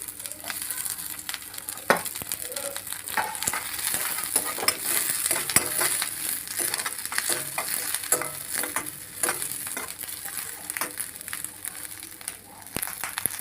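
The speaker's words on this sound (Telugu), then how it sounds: "మనం చిన్నగా కట్ చేసుకున్న ఉల్లిగడ్డలు వేయించుకోవాలండి." Finely chopped onions fry in hot oil in a pan for a curry, giving a steady close crackling sizzle with frequent sharp pops and occasional stirring scrapes throughout.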